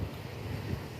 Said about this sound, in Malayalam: കാറ്റടിക്കുന്നതിൻ്റെ ഒരു ശബ്ദമാണ് കേൾക്കുന്നത്.